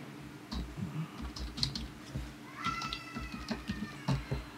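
Password being typed on a computer keyboard while installing WordPress through cPanel, a few scattered key taps close by, with a cat meowing audibly over them.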